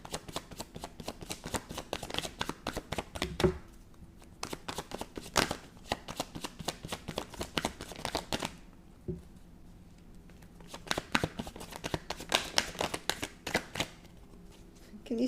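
Playing cards shuffled again and again for a tarot-style card reading, with long runs of dense, rapid riffling and flicking separated by short quiet pauses, close up and fairly loud.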